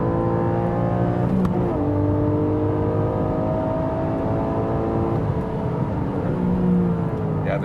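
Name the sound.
sports car engine with double-clutch gearshifts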